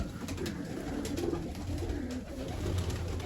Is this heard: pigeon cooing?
yes